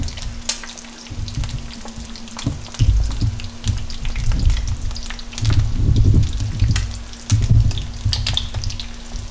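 Eggs frying in a pan for lacy eggs, a steady crackling sizzle with bursts of popping spatter, close and fairly loud, running throughout with a low steady hum underneath.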